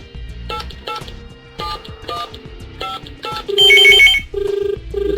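A phone rings for an incoming call to an industrial remote-control device, giving several regular bursts of electronic ring tones followed by a louder, higher beeping tone near the end, with no one speaking.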